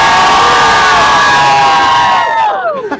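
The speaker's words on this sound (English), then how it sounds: "Now let's hear a cheer." Loud crowd cheering at a climate strike in Iowa, a sustained chorus of shouting voices holding for a few seconds before trailing off.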